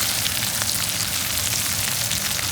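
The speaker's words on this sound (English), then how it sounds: "It's that double cooking on the potatoes that's really letting them get nice and crispy here in our pan" Double-cooked potatoes fry crisply in a pan, a dense, steady sizzle and crackle that fills the whole moment, close and alone.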